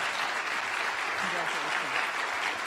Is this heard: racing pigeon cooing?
no